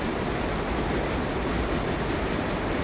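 A subway train in World of Subways rushes past with a dense, loud rumbling roar and faint rail clatter, sustained throughout with no voices.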